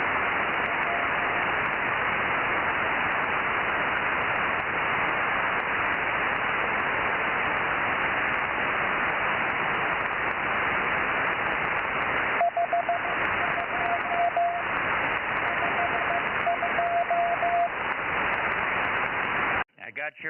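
Amateur radio CW Morse code on a 23cm net: a thin steady tone keyed in short dot-dash bursts, faint at first, then clearer in the last third of the clip, under constant loud radio static hiss that cuts off abruptly at the end.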